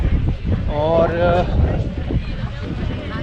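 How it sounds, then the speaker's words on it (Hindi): Strong gusting wind buffets the microphone high on the rock at Edinburgh Castle, a steady roaring rush throughout, with someone talking over it. "बहुत तेज़ हवा चल रही है आज"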